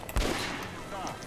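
A rapid burst of gunfire in the video game Metro Last Light Redux crackles at moderate volume, with a thump and scattered shots, game-like and not very close.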